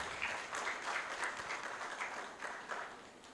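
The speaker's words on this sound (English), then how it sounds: "Another round of applause for him." An audience at an intellectual property conference applauds in a soft, steady patter of many hands clapping, heard at a distance and fairly faint, with no talking.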